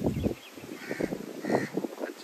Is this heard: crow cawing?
yes